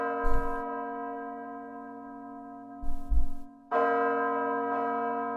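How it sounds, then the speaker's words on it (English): Deep church bells in the anime Death Note ring out loud and sustained, a long resonant toll that fades and then swells again with fresh strikes near the end. "The bells."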